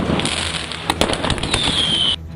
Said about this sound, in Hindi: उन्होंने उस पर पटाखों से हमला करना शुरू कर दिया